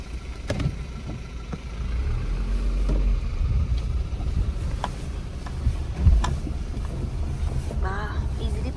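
A safari vehicle rolls slowly into a parking spot at a tiger reserve on a winter morning, its engine a low steady rumble with wind buffeting, occasional knocks and faint voices.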